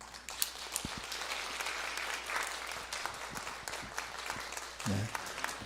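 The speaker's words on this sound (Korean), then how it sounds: "여러분 환영의 박수 좀 해주십시오" At a Sunday church service, the congregation claps to welcome new members, a steady hall-wide patter of many hands with scattered louder individual claps, and a brief voice surfaces near the end.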